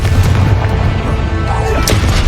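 A Confringo fire spell in Hogwarts Legacy goes off with a deep, heavy boom and rumbling blast, loud and close, followed by crackling impact noise.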